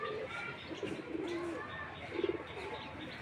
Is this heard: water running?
no